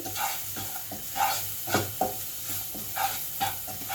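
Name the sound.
stirring food in a pan with salt and sugar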